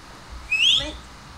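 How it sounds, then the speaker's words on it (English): A single short, bright whistle from a person in the Roblox game Apeirophobia, rising slightly and fading quickly over faint background noise. "Stop whistling."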